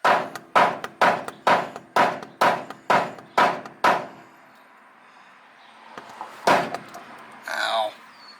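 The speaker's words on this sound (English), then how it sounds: "Grab yourself a smacking hammer." A hammer striking the idler arm on a 1966 Mustang, nine sharp, evenly spaced metallic blows in quick succession, then a pause and a few further knocks and scrapes.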